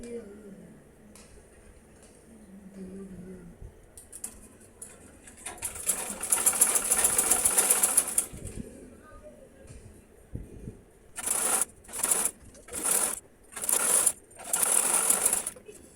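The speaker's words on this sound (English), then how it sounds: "We stitch the hemline with the lining, join the hemline with the lining with about 1/2 inch" A sewing machine stitches a garment's hemline to its lining in bursts: one long steady run, then several short runs separated by pauses, close and fairly loud over quiet room noise.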